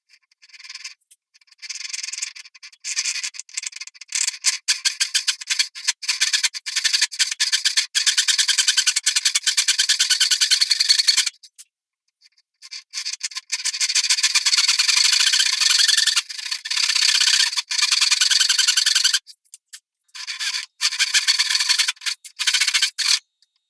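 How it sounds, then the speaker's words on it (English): A Japanese pull saw rip-cutting wood gives rapid, rhythmic rasping strokes close by in long bursts, with a few brief pauses between runs of sawing. "This one is a rip cut."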